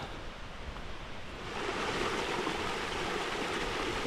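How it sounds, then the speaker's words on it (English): A narrow, cascading waterfall creek on a trail in the Great Smoky Mountains sends up a steady, close rush of broadband water noise, swelling a little louder partway through with no voices. "Just a narrow little cascading waterfall,"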